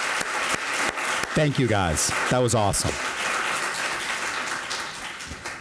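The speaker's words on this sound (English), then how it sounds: "Big round of applause for our speakers." Audience applause for the speakers at a global health event, a dense steady clapping that fills the whole stretch while someone speaks over it near the middle.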